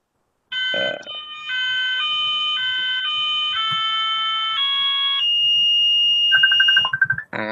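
A railway alarm sounds loud and close, cycling through shifting two-tone electronic pitches in quick steps, then ending in a rapid pulsing burst, with no voices.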